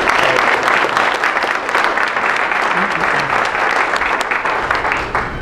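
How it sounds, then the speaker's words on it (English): A public safety forum audience gives sustained applause, dense clapping filling the room at steady volume for several seconds with a faint crowd murmur underneath. "let's give a round of applause thanking our"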